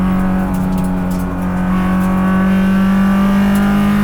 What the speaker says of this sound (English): First gear. Full throttle.